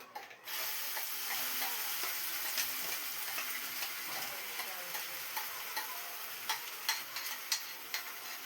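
Ground masala paste sizzles in a pan for paneer masala. The frying is steady and close, and light clicks of a spoon stirring against the pan come through, getting more frequent toward the end.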